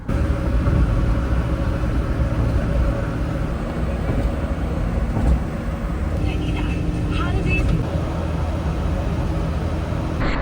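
Steady, loud road and engine drone fills the cabin of a small kei car cruising on the highway at about 80 km/h, a dense continuous rumble with wind noise and no clear breaks.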